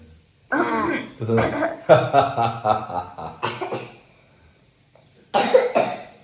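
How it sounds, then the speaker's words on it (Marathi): A young child with a cough coughs in several rough bursts up close, with a short pause before a final cough, mixed with some throaty vocal sounds. "खोकला आलेला आहे थोडासा"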